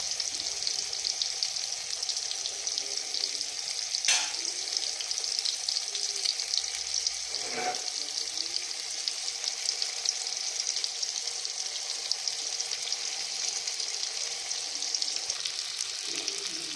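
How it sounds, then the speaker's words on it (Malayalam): Fish frying in hot oil for a home-style Kerala fried fish dish, a steady broad sizzle crackling continuously, with a couple of brief sharper pops partway through. "ചൂടായ എണ്ണയിലേക്ക് ഇനി മീനിടാം ഇനി ഇത് ഫ്രൈ ആക്കി എടുക്കാം"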